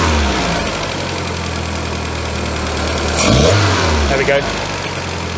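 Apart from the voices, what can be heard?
VW MK2 Scirocco engine running with lean sputter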